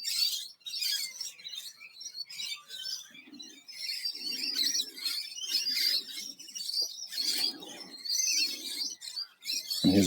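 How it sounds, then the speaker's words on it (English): Several birds chirping and tweeting in quick bursts, with softer cooing calls underneath, outdoors in the Botanical Gardens of Bendigo, Victoria, Australia, with no voices. "It goes very well with the sound of the birds."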